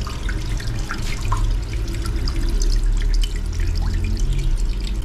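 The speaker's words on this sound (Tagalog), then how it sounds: "talagang tumatakbo pa yung tubig" Water runs steadily into a toilet cistern as it refills, a close, continuous rushing trickle with scattered drips and no talking.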